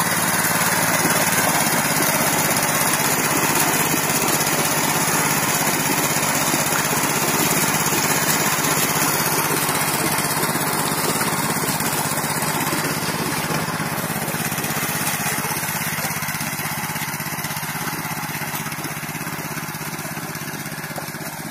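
A 900cc mini tractor engine drones steadily for a long stretch, a constant buzzing hum with a slight drop in level toward the end.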